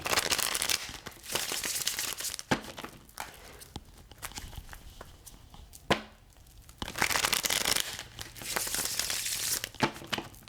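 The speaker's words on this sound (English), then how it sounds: "Oh, the way that the cards are shuffling too, y'all," Tarot cards shuffled by hand give papery riffling and crinkling bursts, several busy spurts separated by quieter pauses and a sharp snap near the middle, close up with no talking.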